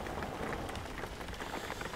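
Steady rain in the driving game Jalopy, a dense, even patter of drops on a surface filling the background throughout, with no talking.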